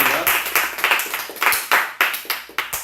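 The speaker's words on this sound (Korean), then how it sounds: "박수 한번 칩시다" A group claps hands together in a lively indoor gathering, a steady run of loud, close, sharp claps repeating about every quarter second.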